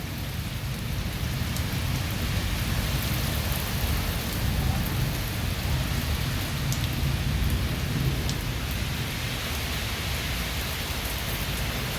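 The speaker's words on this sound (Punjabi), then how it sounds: "بارش ਲਗਾਤਾਰ ਤੇਜ਼ ਹੈ" Heavy monsoon downpour with strong wind at the start of the Sawan month in Fatte Wale village. It forms a dense, unbroken roar of rain on surfaces that stays loud and even for the whole stretch, with no voices.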